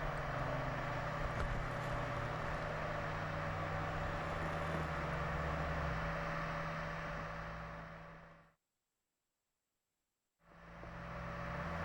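Land Rover backing slowly down a sand dune in reverse gear, a steady low engine drone and road-vehicle rumble that holds at an even level, then cuts off abruptly into about two seconds of silence before resuming.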